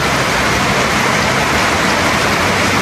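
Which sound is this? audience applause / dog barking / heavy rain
heavy rain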